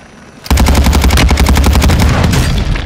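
Rapid automatic gunfire in a shooter video game, a loud close burst of evenly spaced shots that starts abruptly and rattles on without pause to the end.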